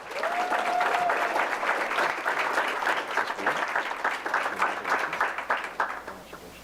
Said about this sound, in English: let's give a huge round of applause for Karen Chow